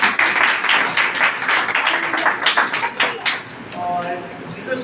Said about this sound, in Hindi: तो खुदा के कलाम के लिए जोरदार तालियां बजाए